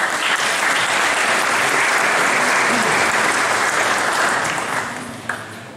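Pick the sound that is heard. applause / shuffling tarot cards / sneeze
applause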